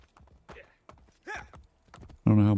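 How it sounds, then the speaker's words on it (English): Horse hooves clip-clopping in Assassin's Creed Brotherhood, sounding as a few short, soft bursts of footfalls, with a louder burst at the end. "Luckily we have a horse in this game and can call him at any point."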